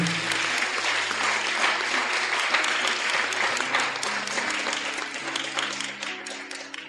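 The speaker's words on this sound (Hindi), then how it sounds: "ताली बजा के प्रभु को धन्यवाद देंगे।" A church congregation claps hands together in thanks during a fasting prayer service, a dense, sustained burst of applause from a large crowd that holds steady and then gradually tapers off.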